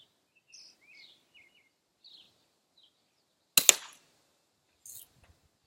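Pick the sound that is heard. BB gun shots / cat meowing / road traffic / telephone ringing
BB gun shots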